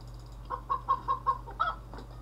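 Chickens clucking in the farming video game Farmerama, a short run of about six rhythmic clucks at moderate level over a steady low background hum, with no talking.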